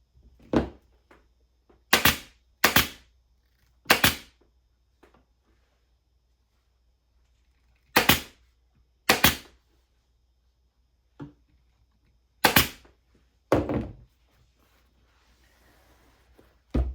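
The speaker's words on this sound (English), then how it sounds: "we staple very close to the stitching" Staple gun firing into fabric on a footstool, with about a dozen sharp, loud single snaps spaced irregularly and near-silence between them.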